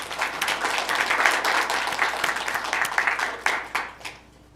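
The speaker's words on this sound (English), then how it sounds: "I am not supposed to allow you guys to clap" An audience applauds at a school district board meeting, a sustained round of clapping that thins out and fades near the end.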